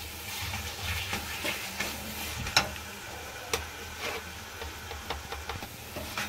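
Dum aloo masala fries quietly in a pan, a soft steady sizzle broken by scattered small pops and ticks, with no talking.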